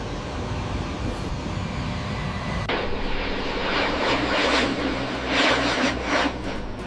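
A Boeing 777X jet airliner lands with a loud, continuous engine roar that shifts abruptly in tone partway through and stays strong and near to the end.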